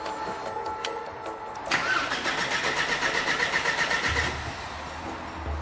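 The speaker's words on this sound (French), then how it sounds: "Elle démarre. Pas de bruit suspect." A Porsche 968 engine cranks and catches after repairs, settling into a steady, moderately loud mid-pitched idle with a slight rise, then a deeper rumble near the end.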